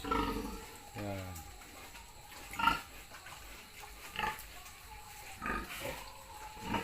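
A thin sow and her 25-day-old piglets on a farm, low grunts and snorts rising at intervals over a steady background hum, fairly close.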